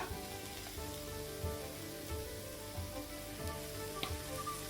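Masala frying in oil with a quarter cup of curd just added, a continuous close sizzle with light crackles and occasional stirring scrapes, no voices.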